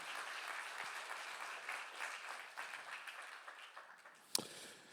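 A church congregation applauds at a Sunday service, a dense wash of clapping that carries steadily through and softens slightly near the end, with one sharp loud clap or knock standing out late.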